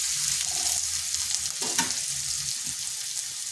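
Onions frying softly in a pan with a steady sizzle and occasional stirring scrapes, continuous and close, with no voices.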